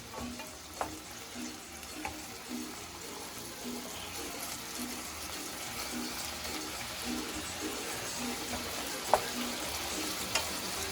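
Spicy diabla sauce for shrimp pasta simmers and sizzles steadily in a pan, a faint continuous bubbling with a few sharp clicks of utensils against the pan.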